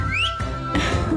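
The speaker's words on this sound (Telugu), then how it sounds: "చిన్నప్పటి నుంచి నువ్వు భలే తమాషాగా విజిల్ వేస్తావు" A woman gives a quick, playful rising whistle at the start, followed by a moment of quieter indoor household sound.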